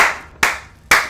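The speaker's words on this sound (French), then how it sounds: "On applaudit ce match parce que c'était un match magnifique" Three sharp, close handclaps ring out in quick succession, each one crisp and isolated, the last two spaced about half a second apart.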